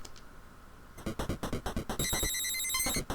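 Rapid, repeating electronic chirps sound from footsteps in the Famicom game Maniac Mansion. About a dozen bright, evenly spaced blips are followed by a sustained high tone, faint and with no speech over them.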